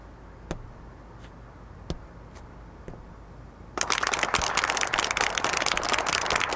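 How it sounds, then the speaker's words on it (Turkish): Children's applause for a policeman entering a classroom, starting abruptly after a few seconds of quiet sparse taps and then continuing as dense, fairly close clapping from a group of small hands. "Tamam alkışladınız."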